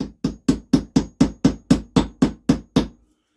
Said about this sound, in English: And we can give this a little tap.